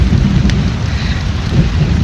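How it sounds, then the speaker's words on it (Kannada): A thunderstorm with heavy rain pouring down steadily, thunder rumbling low beneath a dense wash of rain, close and loud, with no voices. "ದೊಡ್ಡ ದೊಡ್ಡ ಮಿಂಚು ಬರ್ತಾ ಉಂಟು ಸ್ವಾಮಿ."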